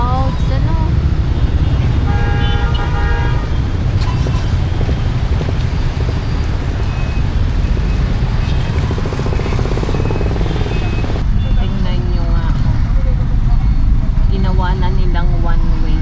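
Dense street traffic in Nepal, with several car horns tooting in short bursts over a constant engine rumble and people talking nearby.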